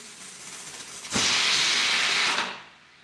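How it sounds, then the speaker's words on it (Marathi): A pressure cooker whistle bursts into a loud, steady steam hiss for over a second while cooking dal, then cuts off, leaving faint background noise. "एक शिट्टी झाली माझी कुकरची"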